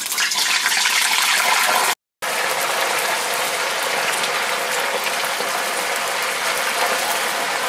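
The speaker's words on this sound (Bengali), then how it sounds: "আলুটা ছেঁকে নিয়ে তেলে ছেড়ে দেবো।" Shredded potatoes dropped into hot oil in a pan, a loud dense crackling sizzle that continues throughout, broken by a brief gap, with no voices.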